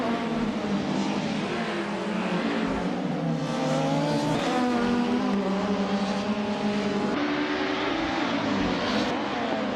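Race cars in a racing video game roar together in a tight pack, a dense, continuous engine drone with overlapping whining tones that rise and shift in pitch, steady and loud throughout without talk.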